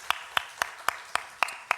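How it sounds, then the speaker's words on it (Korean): Clapping from a Sunday church congregation, a slow, even series of about seven sharp claps, close and distinct, with nothing else around them. "하나님께 영광의 박수 올려드릴까요?"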